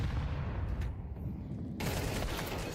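Gunfire from a professional Counter-Strike match at the PGL Cluj-Napoca 2025 tournament: a dense, steady wash of shots and game noise that fills the whole stretch, with a brief dip near the middle.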